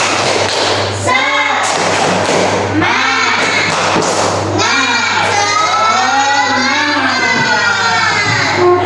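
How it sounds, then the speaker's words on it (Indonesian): A classroom of schoolchildren doing a rhythmic clapping chant, loud claps and thumps in patterned bursts with the children shouting along together, close and lively throughout. "Coba sebelum lanjut kita tepuk semangat dulu."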